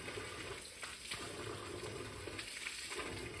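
Water pours steadily from the Bulbule spring spout in a forested spot at Ramshikhar, a constant close rushing splash with no breaks.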